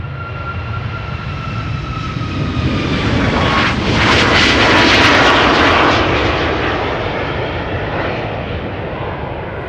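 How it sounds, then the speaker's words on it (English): A Corendon Boeing 737 Max 9 jet departs outbound to Antalya, its engine roar building steadily to a loud peak midway with a whining tone, then easing off as it moves away, with no talk. "This is Corendon, flight 635, Max 9, outbound to Antalya."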